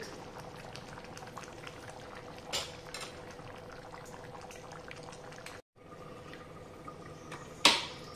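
Chicken curry with fenugreek leaves and raw mango bubbling in a covered clay pot, a faint steady simmer with a brief click midway and a sharp tap near the end.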